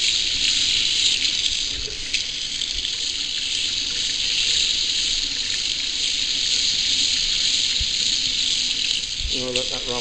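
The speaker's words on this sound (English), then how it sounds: "In fact, all the faucets are on." Water gushing steadily from several household faucets running at once during a home inspection, a loud continuous hiss and splash filling the whole stretch.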